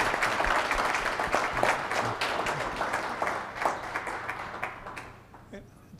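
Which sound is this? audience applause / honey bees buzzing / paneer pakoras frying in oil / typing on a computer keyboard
audience applause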